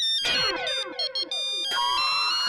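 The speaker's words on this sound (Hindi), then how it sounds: "किसी का फोन बज रहा है।" A mobile phone rings with a bright electronic ringtone of rapid, sweeping melodic tones, fairly loud and alone, playing for a couple of seconds.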